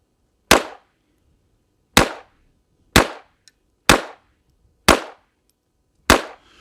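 Six sharp pistol shots from a Jim Clark Sr. custom pistol at an outdoor range, spaced about a second apart with one slightly longer gap, each a loud crack with a short decay and no talk.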